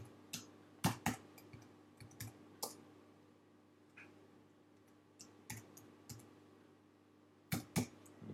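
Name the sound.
computer mouse clicking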